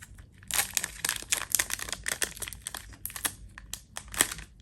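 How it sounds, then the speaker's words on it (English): Foil basketball trading card packs from a blaster box are torn open, a close run of sharp crinkling and ripping bursts in an uneven rhythm, with no talking. "I hate it when the packs are really hard to open."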